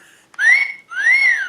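A person whistles two rising-and-falling tones, each sliding up and then dipping back down, clear and close with a short pause between them.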